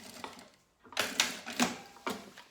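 A sewing machine backstitches at the start of a seam on a fabric box, giving several sharp mechanical bursts of stitching separated by short pauses, close and clear.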